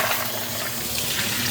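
Clams rinsed under a running kitchen tap while a halibut and clam dish in tomato sauce is prepared: a steady, close gush of water splashing over the shells, loud and unbroken.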